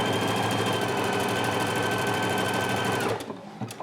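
A Husqvarna Viking Epic 980Q sewing machine stitches a buttonhole, running in a loud, steady whir for about three seconds before stopping abruptly, with a few faint clicks after.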